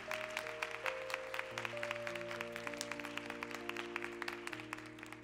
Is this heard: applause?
yes